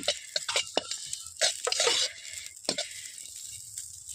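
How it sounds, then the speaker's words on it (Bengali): Vegetable stalks sizzle in a pan over a low flame as they are stirred, with bursts of crackling and scraping strokes coming and going against a quiet background. "এবারে ডাঁটাটাকে ভালো করে নেড়ে নেড়ে হালকা আগুন দিয়ে ভাজতে হবে।"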